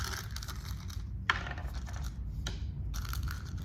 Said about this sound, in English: beading next to me in case you're wondering what that noise is